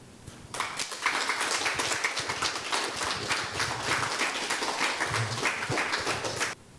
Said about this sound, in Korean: 오늘 고생해주신 박경석 대표님에게 다시 한번 큰 박수 한번 부탁드리겠습니다